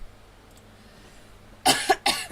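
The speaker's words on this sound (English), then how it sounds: "It's like a non-existent cough." Two quick bursts of a dry, throaty cough, close and fairly loud, following a stretch of quiet room tone.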